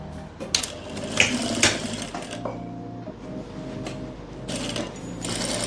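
A sewing machine stitches down a folded edge of a straight palazzo, a close, continuous mechanical whir and rattle with small clicks, fairly loud and without speech.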